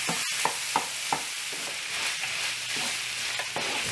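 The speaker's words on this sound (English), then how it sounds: "Then add in your mushrooms, salt and pepper, and stir those around." Mushrooms with salt and pepper sizzle steadily in a skillet with sausage for gravy, while a spoon scrapes and stirs in several distinct clacks near the start, then softer intermittent scrapes over the continuous frying hiss.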